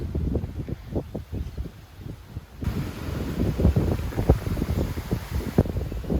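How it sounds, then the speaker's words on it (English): Strong gusty wind buffets the microphone in a garden in Perth, Western Australia, rumbling and roaring in uneven bursts outdoors with no voices. "It's a bloody windy, mate."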